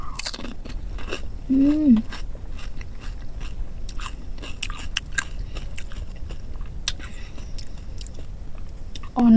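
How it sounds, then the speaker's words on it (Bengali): Someone bites and chews crunchy panipuri (fuchka): a steady series of close, crisp crunches and wet chewing clicks. A short murmured hum comes from the eater partway through. "অনেক দিন পরে ফুচকা খাবো।"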